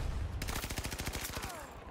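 Rapid gunfire from a video game shooter, with a sniper in the match: a dense burst of evenly spaced shots rattling close and loud through nearly two seconds, without speech.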